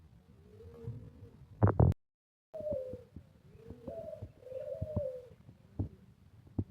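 Australian doves coo in soft repeated rounded calls, nearby and alone with no talk, broken by a short loud thump and a brief silence partway through.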